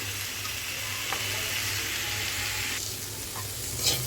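Bottle gourd greens bhaji frying in a pan, a steady close sizzle with soft stirring scrapes and a few small clicks, no talking.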